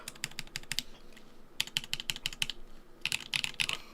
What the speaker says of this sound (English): I wish most of the keyboards sounded like this,